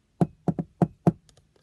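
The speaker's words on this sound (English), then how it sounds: "he went to the door and he knocked" Knocks on a wooden house door in a spoken story, five sharp raps in an uneven pattern, close and clear with a couple of faint taps trailing after.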